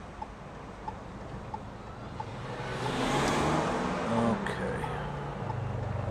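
Road traffic in crowded Gatlinburg, a car engine swelling as it passes nearby over a steady background hum, with faint rhythmic ticks and no clear speech.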